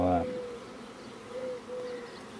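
Honeybees buzz steadily nearby, a continuous droning hum that wavers slightly in pitch.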